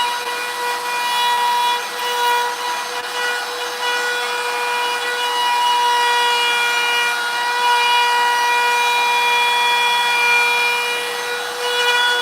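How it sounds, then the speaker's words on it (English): A wood carving tool cuts a 1/8-inch-deep profile around an outline in wood during a live carving session, a steady, unbroken buzzing rasp that holds at an even, fairly loud level throughout without speech. "So he went around it with the carving liner to get his initial outline. Then he went with the profile around 1/8 of an inch."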